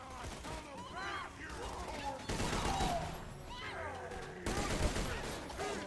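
Gunfire in the video game Borderlands 2, sharp shots and bursts from a sniper rifle mixed with in-game voices and effects, set under people talking.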